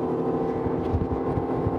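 Honda outboard engine on a boat running at high revs near 40 knots as the throttle is pushed fully open, a loud, steady, droning roar with rushing water and wind noise and no voices.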